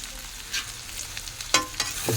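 Sliced ivy gourd (dondakaya) fries and sizzles steadily in a pan for a home-cooked fry, with a few louder stirring scrapes toward the end and no speech over it.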